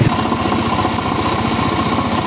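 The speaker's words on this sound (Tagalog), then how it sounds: "Napakaingay na kanyang makina yung sa STX 125." A noisy STX 125 motorcycle engine runs steadily at idle, a loud, rough, continuous mechanical chatter with a rapid pulsing beat, close up and with no one talking over it.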